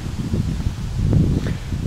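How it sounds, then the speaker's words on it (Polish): A soft breeze stirs leaves in Toruń, Poland, in a steady, low rustle, with a few brief louder gusts, no voices. "Przyjemny wietrzyk wieje."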